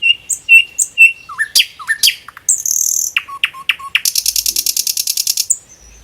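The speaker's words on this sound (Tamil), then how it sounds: "nightingale." Nightingale song made of varied bright phrases: clear whistles, quick descending notes and a fast rapid-fire trill near the end, loud and close with no other sound around it.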